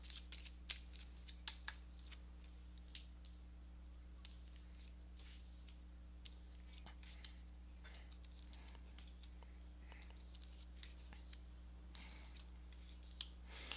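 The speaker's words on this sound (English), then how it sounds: "let me go ahead and give these cards a shuffle" Tarot cards being shuffled by hand, soft riffling and sharp clicking snaps recurring steadily, quiet and close against a constant low hum.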